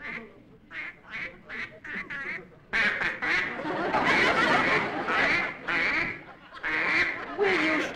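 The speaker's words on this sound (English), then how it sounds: "that duck of yours is making an awful lot of noise" Duck quacking loudly and excitedly in a comedy scene, a quick run of separate quacks followed by a denser, louder burst of honking quacks close by.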